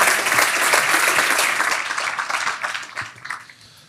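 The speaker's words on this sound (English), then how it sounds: "Can I get a big applause for Emil Arends?" Keynote audience at a rooftop development conference breaks into sustained applause, a dense wash of many hands clapping that stays loud before thinning and fading toward the end.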